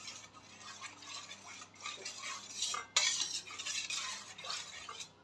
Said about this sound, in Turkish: Pekmezimin üzerine 1 çay bardağı da su ilave ettim ve şimdi de karıştırıyorum